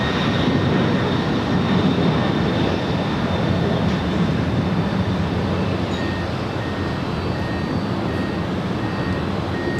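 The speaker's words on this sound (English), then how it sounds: "That is Coletta Air Flight 828 departing to Anchorage. It's a 23-year-old 747-400 freighter." A 23-year-old Boeing 747-400 freighter departs from Los Angeles LAX, its engines producing a steady, loud broadband roar that holds through the whole stretch with no talk.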